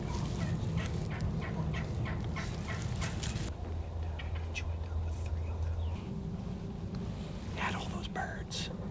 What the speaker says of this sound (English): Just heard the one initial gobble